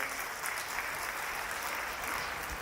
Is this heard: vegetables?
no